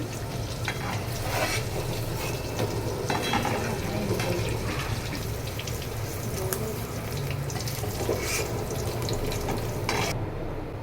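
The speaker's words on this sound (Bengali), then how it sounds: "পনিরগুলো ভাজা হয়ে গেছে, এবার আমি তুলে নিচ্ছি" Paneer frying in hot oil in a pan, a busy close-up crackle and bubble that runs throughout, with scraping and stirring as the pieces are lifted out.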